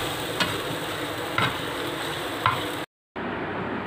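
Shami kabab and egg mixture sizzles in a hot pan while a spatula scrapes and taps three times at roughly one-second intervals, with the sound cutting out briefly near the end.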